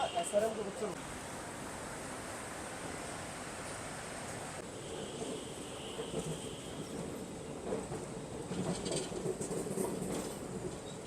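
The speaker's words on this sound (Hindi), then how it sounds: "तो अपनी ट्रेन निकल चुकी है लखनऊ जंक्शन से।" Inside the Lucknow Chennai Express, a passenger train pulling out of Lucknow Junction and running, giving a steady broadband rumble and rattle with faint rhythmic clatter building toward the end, and some voices under the noise.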